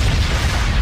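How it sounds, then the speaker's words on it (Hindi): A dense, rumbling blast that roars continuously, loud and close, with no break. "दोनों की एनर्जी से धमाका हो जाता है"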